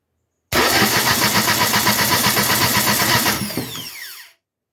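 A Ford Zetec ST170 engine, fitted with its sump in a Ford Escort Mk1 rear-wheel-drive conversion, is cranked over by the starter for about four seconds with a steady, rapid, loud mechanical churn, then winds down.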